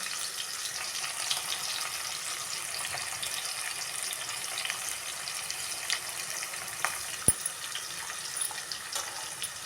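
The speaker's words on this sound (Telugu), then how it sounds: "ఇది నూనె అయితే వేడైపోయింది కదా పచ్చిమిరపకాయలు ఇక్కడైతే వేసుకుంటున్నాను" Green chillies fry in hot oil for a village-style dish, giving a steady, close sizzling hiss with a few brief crackles and pops and no voices.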